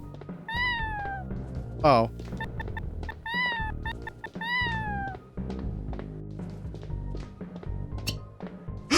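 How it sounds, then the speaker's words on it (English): Cat meowing in the video game Plumbers Don't Wear Ties, several clear rising-falling meows spaced through the scene, with a player's exclamations and game noises in between. "Kitty."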